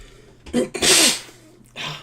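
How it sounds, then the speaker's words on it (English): A few sharp, forceful coughs close by, one longer and harsher burst in the middle, separated by brief quiet. "I've got a bit of a cough"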